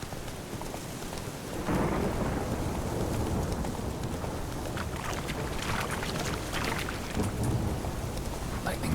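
A rolling rumble of thunder after a lightning strike in The Witcher 3: Wild Hunt, a broad sustained roar that swells and stays loud, with crackling texture throughout.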